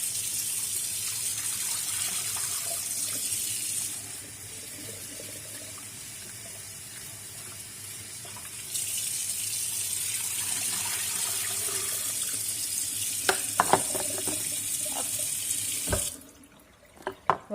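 Water runs steadily from a tap over sprouting seeds being rinsed for birds, a loud continuous splash that briefly softens midway, then resumes with a few clinks before cutting off.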